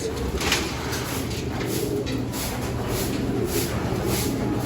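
Racing pigeons, young cocks and hens kept in a loft, coo continuously in a dense, close chorus over a steady hiss of background noise.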